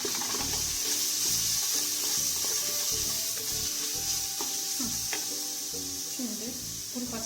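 Black pepper and chili powder sizzle in a hot pan while being stirred, during preparation of Turkish dry bean stew (kuru fasulye). A steady, loud, close hiss runs throughout, broken by repeated scraping strokes of the spoon.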